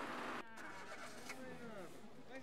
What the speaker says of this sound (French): Nous pouvons voir des voitures qui passent.